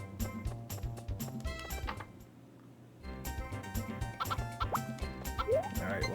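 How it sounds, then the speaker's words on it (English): Chickens cluck in the Harvest Moon 64 farm game, short pecking clucks scattered among steady game music and ticking effects, with a brief quiet gap midway. "I hear some clucking."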